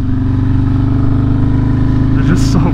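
A loud motorcycle engine fitted with new tires idles and rumbles continuously up close, a steady deep throb, while someone talks over it.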